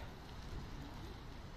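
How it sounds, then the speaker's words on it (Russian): Light, warm rain falling outdoors on a Berlin hospital campus, a faint, even patter and hiss with no talk over it. "Довольно тепло и дождик"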